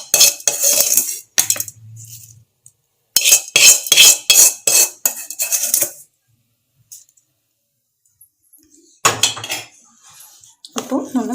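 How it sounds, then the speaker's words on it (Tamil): A spoon scraping and clinking against a metal pot while mint chutney is stirred, in sharp repeated bursts with pauses, close and loud. "இப்போ நல்லா கலக்கி விட்டுக்கோங்க."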